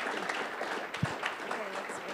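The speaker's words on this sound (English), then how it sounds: "they get a big round of applause, please" Audience applause at the close of the 14th annual AREDAY summit, a steady wash of clapping from a crowd, with some talk and cheering over it.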